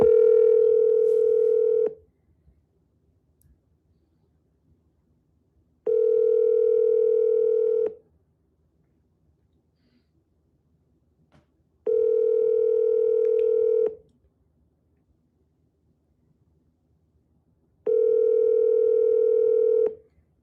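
Telephone ringback tone while calling a realtor: four evenly spaced two-second tones separated by about four seconds of near silence, clear and alone.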